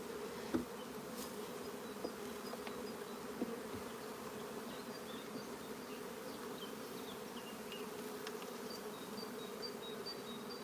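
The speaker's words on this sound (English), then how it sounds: "Nice calm bees as well." Honey bees swarm around an open hive while a nucleus colony is moved over, making a dense, even, continuous buzz close by with a few sharp individual bees zipping past. No one speaks.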